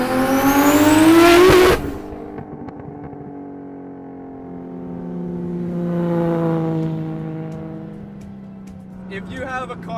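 A 1,036 whp Mk3 Toyota Supra roars loudly as it accelerates through the gears, its engine note rising sharply before easing into a steady cruising drone that swells again, with talk inside the car over the engine.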